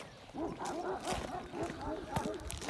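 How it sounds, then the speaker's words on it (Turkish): A tied-up dog named Tosun, a Gal breed, barks and growls in a string of rough, repeated bursts at close range, with someone talking over the noise. "Bak şimdi hemen kırlamaya, gürlemeye başlayacak."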